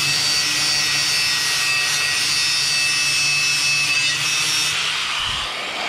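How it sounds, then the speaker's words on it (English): Grinder held close against a welded steel tie rod arm from a quad bike, giving a continuous loud abrasive whine and rasp for several seconds that tapers off at the end. "let's get back to trying to get this tie rod arm"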